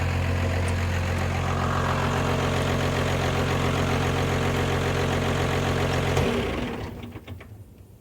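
A bus engine idles steadily and loudly with a low, even rumble and chugging knock, then is shut off near the end and quickly dies away to quiet.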